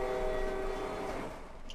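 A train rolling along in the game Jailbreak, a steady rumbling drone with a sustained horn-like tone that fades out after about a second, moderately loud with no talk over it.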